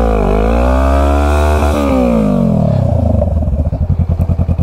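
A Honda Rebel 500 motorcycle revs hard and close, its engine note rising and falling. A scraping skid then follows as rapid, choppy engine pulses grow louder toward the end.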